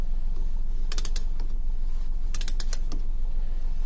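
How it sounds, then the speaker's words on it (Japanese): A torque wrench set to 44 clicks as it tightens brake caliper mounting bolts on a C4 Corvette, giving two quick paired clicks and then another pair, sharp and close against a steady low background hum. "トルクレンチいつも最後2回カチカチとしてしまうんですけども"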